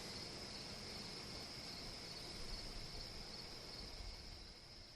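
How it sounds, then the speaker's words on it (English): Crickets chirp in a continuous high trill outside at night, with a soft rush of wind beneath, faint and steady throughout. "only the crickets and the wind outside, like now."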